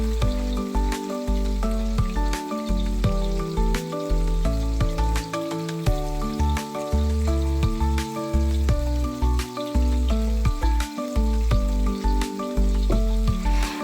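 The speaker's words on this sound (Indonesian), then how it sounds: "Terasinya ditumis bareng si cabenya," Shrimp paste and chili sautéing in a pan, a steady close sizzle and crackle running throughout with occasional stirring knocks, while music plays underneath.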